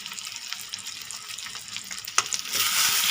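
Ground red chili, cumin, coriander and turmeric frying over a high flame for chana dal, giving a steady close hiss and crackle with a brief clatter and louder sizzling toward the end.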